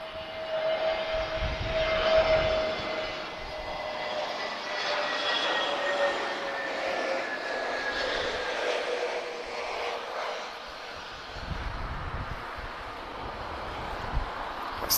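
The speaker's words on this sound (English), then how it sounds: "Air Force is taking a shortcut. Doesn't need a whole runway, of course." Air Force fixed-wing aircraft landing at an airport, a steady engine drone with wind noise held across the whole stretch, fairly loud and continuous with no talk.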